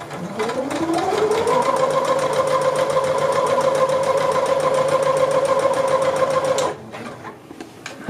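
Domestic sewing machine stitching fabric for a shirt, motor whining up to a steady fast hum of stitches for several seconds before stopping abruptly, followed by quieter handling noise.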